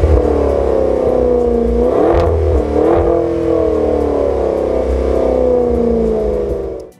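Loud, close revving from a Maserati Levante Trofeo with its Ferrari-collaborated V8, a sustained deep drone punctuated by two sharp throttle blips before cutting off abruptly.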